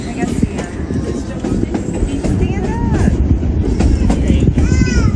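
Narrow gauge train on the Silverton–Durango railroad in southwest Colorado, rumbling and clattering steadily with wind buffeting the microphone, plus a few brief squeal-like tones over the continuous rolling noise.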